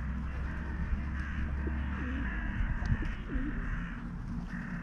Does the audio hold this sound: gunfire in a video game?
no